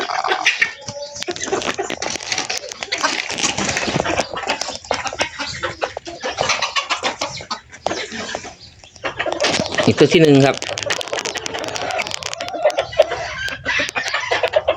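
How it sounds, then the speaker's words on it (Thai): A fighting rooster crows and clucks nearby, loud and repeated, while someone talks over the birds throughout. "ผมมีไก่ลงแบงอยู่สองตัวครับ"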